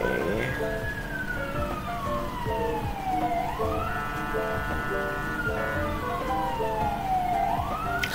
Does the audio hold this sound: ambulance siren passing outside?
yes